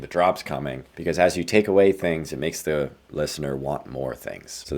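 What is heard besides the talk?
No everyday noises stand out.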